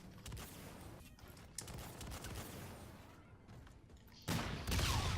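Hip-fired automatic weapon bursts in Call of Duty: Infinite Warfare during team deathmatch, fairly quiet and continuous, with a louder burst near the end.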